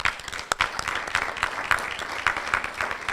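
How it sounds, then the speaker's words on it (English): An audience at a teacher appreciation event gives a round of applause, continuous clapping from many hands with a few louder individual claps standing out, moderately distant and without talk. "You all deserve a huge round of applause."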